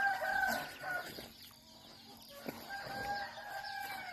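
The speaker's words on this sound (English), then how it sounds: "So the chickens come scratching around, get the insects." Free-range chickens scratching around a Thai village, with a rooster crowing and hens clucking at moderate distance in a few short bursts over quiet outdoor background.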